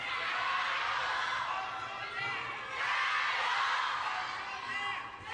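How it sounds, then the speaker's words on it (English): Japanese fans in the arena crowd at a table tennis match in Yokohama cheer steadily, a sustained roar of voices and shouts that rises and falls across the whole stretch. "Some Japanese fans cheering on one of these two."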